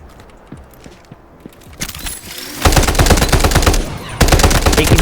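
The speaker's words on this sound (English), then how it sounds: "I'll just let the fight play out so that you can hear all the sound cues that I did." Gunfire in a Delta Force video game firefight, with light footsteps first and then loud, sustained automatic bursts that break off briefly before starting again.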